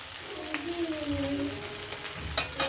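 A tomato flipped in a hot pan with the lid off for a shrimp and gourd-peel mash fries with a soft, steady sizzle and crackle, with faint scraping as it is turned.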